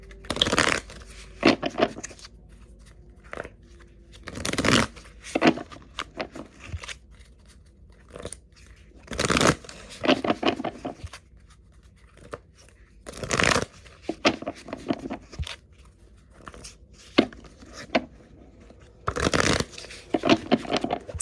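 Tarot cards being shuffled, with repeated bursts of riffling and flicking at irregular intervals, close and fairly crisp, with no voices.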